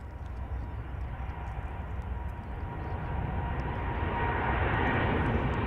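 A Royal Jordanian Boeing 787 Dreamliner departs Chicago O'Hare, its broad engine roar building steadily and growing louder over several seconds at moderate distance.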